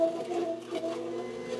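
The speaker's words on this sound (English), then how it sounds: "That noise you hear is not the machine, but the celery rubbing against the side of the plastic here." Celery stalks rubbing and squeaking against the plastic chute of a Kalado cold press juicer, a continuous faint squealing and grinding with a wavering tonal whine, with no one talking.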